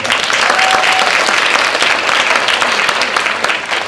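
An audience at a reggae honorary ceremony in Kingston claps loudly and continuously, a dense close wash of hands with a brief whistle near the start.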